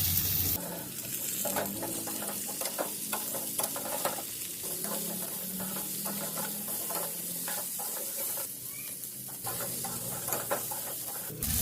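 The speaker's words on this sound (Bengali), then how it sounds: "আলু দিয়ে দিয়ে দিচ্ছি" Potatoes and green banana fry in a pan with a steady close sizzle, broken by repeated stirring scrapes and taps for about eleven seconds, with no voices.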